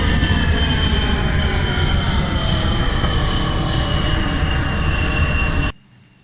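Loud, steady roar of a Me 262 fighter jet engine in the BeamNG game, holding a constant drone with faint higher whine for most of the stretch before cutting off abruptly near the end.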